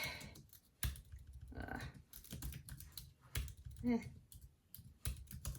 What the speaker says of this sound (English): I'm going to type Nancy's